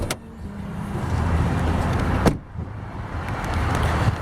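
The hood of a 2007 Ford Explorer Sport Trac 4x4 with a 4.6-liter V8 is popped open, a short sharp latch clunk and thud partway through, heard close over a steady background hum outdoors.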